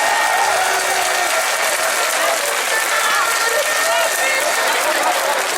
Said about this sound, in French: Applaudissez-moi ces enseignants du primaire.